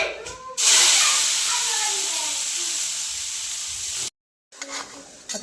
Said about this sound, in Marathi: फोडणी दिली आता टाकायची गावरीची शेंग